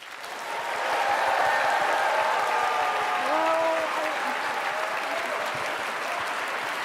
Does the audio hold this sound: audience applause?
yes